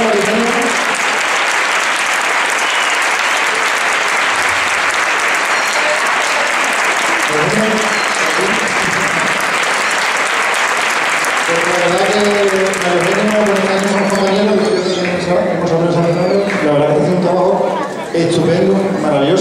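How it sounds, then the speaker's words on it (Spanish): A concert audience applauds a conservatory choir loudly and steadily. Midway through, a voice begins speaking over the fading clapping. "me gustaría que dieran un fuerte aplauso al coro"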